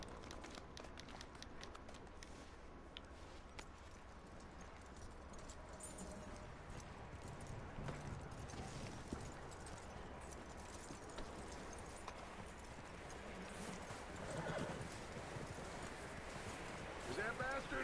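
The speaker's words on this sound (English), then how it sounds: "That looks like a decent horse." Horse hooves clip-clop steadily in the Red Dead Redemption 2 video game, a continuous trotting rhythm over a wide, windy outdoor ambience that holds fairly even throughout.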